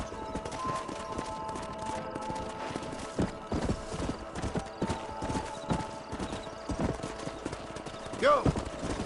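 Horses in the Western video game Red Dead Redemption clip-clop along in a steady rhythm of hoofbeats, with a neigh near the end and in-game voices talking over the hooves.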